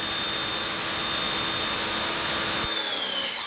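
A Craftsman 1900 psi, 1.2 gpm electric pressure washer fitted with a 3.0 nozzle runs loudly and continuously, a dense whirring roar with a thin high whine whose pitch shifts slightly near the end.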